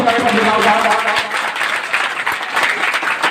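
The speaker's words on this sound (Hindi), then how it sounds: "एक बार जोरदार तालियों से स्वागत करना" A crowd applauds to welcome students honoured at an award ceremony for Bihar Board class 10 and 12 results at a coaching centre, dense continuous clapping, loud and close, with some voices mixed in.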